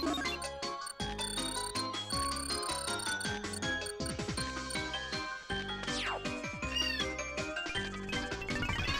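Meowing from the video game Super Paper Mario: repeated bright cat cries and chirps rise and fall over dense, busy game music, loud and continuous throughout.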